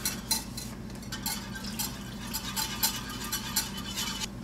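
A whisk stirs roux in a pot for a chicken dish, making steady soft scraping and swishing against the metal with faint clinks, close and continuous with no talking.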